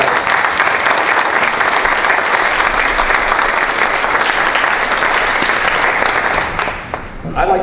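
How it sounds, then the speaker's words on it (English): Crowd at a coaching event panel breaks into sustained applause for the panelists, a loud, even wash of clapping that carries on for several seconds before tapering off near the end. "Everybody, let's give a round of applause for our panelists tonight."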